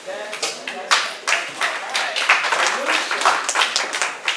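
Audience applause at a youth symposium, a crowd clapping in uneven bursts that swell and fade, fairly loud and close, with voices mixed in.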